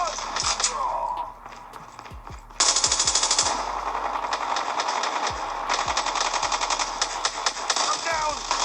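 Rapid automatic gunfire in a video game shooter, loud sustained bursts of rattling shots with deep low thumps, a brief quieter lull before the firing resumes, with voices talking over it.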